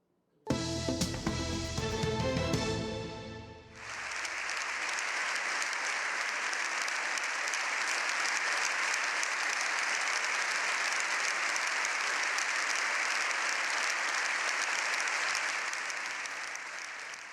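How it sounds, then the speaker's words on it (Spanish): Members of Spain's Congress of Deputies give the Pope a long, sustained standing ovation, with dense, steady applause filling the chamber after a brief musical opening. "Así han despedido al Papa los diputados en el Congreso, con 7 minutos de aplausos."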